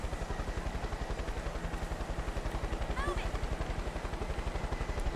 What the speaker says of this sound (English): Why is there a helicopter here now?